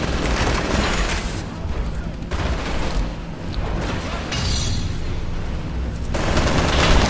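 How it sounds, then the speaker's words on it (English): Rapid gunfire from the video game Titanfall, fired as soldiers pick off grunts: dense, continuous bursts and booms that run steadily throughout, with voice commentary over them. "shoot a cluster, empty a couple rounds, three in a row. Triple kill."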